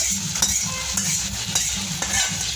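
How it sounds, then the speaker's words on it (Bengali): Cumin, onion and dry chilli tempering in hot oil: a soft, constant sizzle under the regular scrape and clink of a spoon stirring the pan, close and fairly quiet. "কাঁচা জিরা তেলের মধ্যে দিয়ে, পেঁয়াজ দিয়ে, শুকনা মরিচ দিয়ে এই যে এটাকে আমি এখন বাগার দিয়ে নিলাম"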